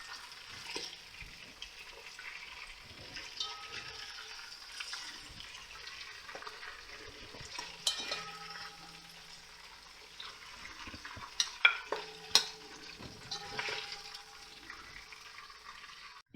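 Beef tails and vegetables fry in a kazan with a soft, quiet sizzle, broken by occasional clinks and scrapes of stirring and a few sharper ticks, heard close and without talk.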